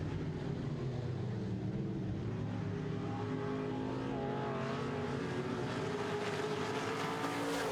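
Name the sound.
modified stock cars racing on oval track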